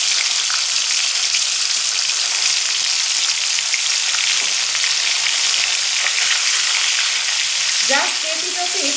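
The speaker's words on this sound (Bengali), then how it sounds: "এবার এখানে যে পনির আমি লবণ মেখে রেখেছি, সেই পনিরটা একটু হালকা ভেজে নেব" Salted paneer cubes frying lightly in hot oil, a dense and continuous sizzle heard up close, with a brief clatter of utensils near the end.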